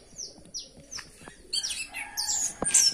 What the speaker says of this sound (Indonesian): dua burung yang di kerodong ini burung andalan